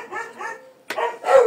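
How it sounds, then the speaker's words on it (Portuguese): Several dogs bark at a cat up on a roof, a few sharp, fairly close woofs in quick succession with a short pause between, the last ones louder and more strained, alone without talk. "O gato tá em cima do telhado, por isso os cachorros estão latindo"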